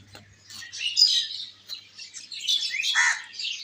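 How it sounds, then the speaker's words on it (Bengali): Village birds chirping and tweeting in the morning, a busy overlapping chorus of small bird calls close by, steady throughout with no talking. "গ্রামের পাখিগুলোর দৃশ্য।"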